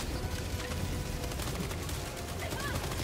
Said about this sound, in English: I'm shooting again, reloading again.